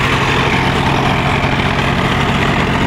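A Sonalika Tiger DI 50 tractor with a rotavator hitched runs with a steady, loud, low diesel rumble that stays even throughout, heard close and alone.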